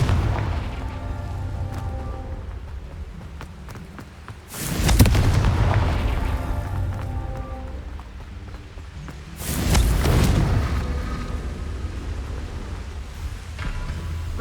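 Two heavy booming blasts from the Confringo spell in Hogwarts Legacy, one near five seconds and another near ten, each a loud low burst that rumbles and fades over a steady game background.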